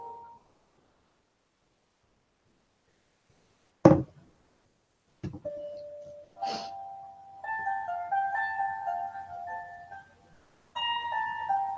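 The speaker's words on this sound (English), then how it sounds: "Can you hear the music, by the way?" A tinkly electronic jingle like an ice cream truck tune plays in short melodic phrases after a quiet start with a couple of sharp knocks, fairly faint and distant, stopping briefly before resuming.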